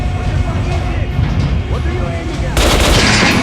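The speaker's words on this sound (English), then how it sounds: "Try shooting for the center of the regular dummy's chest." Gunfire in Metro Last Light aimed at a training dummy's chest, a dense, loud run of shots and booms that continues without a break and grows sharper and brighter toward the end.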